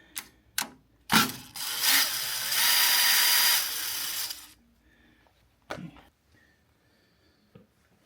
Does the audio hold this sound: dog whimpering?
no